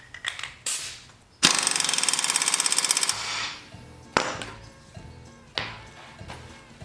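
Tightening the nut on an antique Lawn Boy mower blade hub: a burst of rapid ratchet or impact-tool clicking in the middle, framed by sharp metallic clanks and knocks close by.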